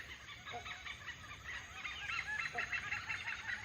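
Oriental pied hornbills in a Thai forest canopy give a series of harsh, honking, cackling calls, repeated in quick irregular bursts at moderate distance against a faint background hiss.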